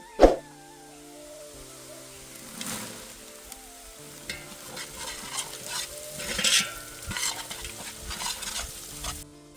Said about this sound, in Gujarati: તો હવે આપણે નાખી દઈશું લીલું ડુંગળી અને લીલું લસણ